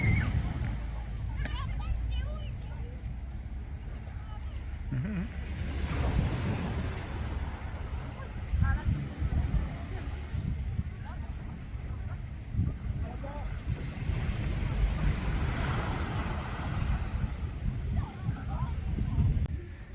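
Grand-marée ocean waves wash and slosh continuously on a windy shore, a steady broadband roar with wind buffeting the microphone, while children play in the surf and someone talks nearby throughout.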